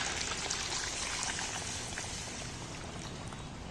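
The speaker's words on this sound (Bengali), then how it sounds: "এইবার আমি হালকা করে একটু হাত ছোঁয়া গরম জল একটু সাইড দিয়ে দিয়ে দেব" Warm water is poured gently down the side of a pan of chicken curry, giving a steady, close hiss and sizzle of liquid that holds at an even level throughout.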